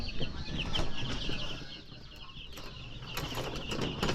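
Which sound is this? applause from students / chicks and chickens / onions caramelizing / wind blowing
chicks and chickens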